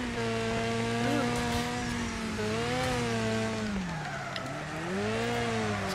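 A race car engine in the Wreckfest driving game holds a steady, loud, buzzing drone whose pitch rises and dips as the throttle changes through a final lap, with no talking.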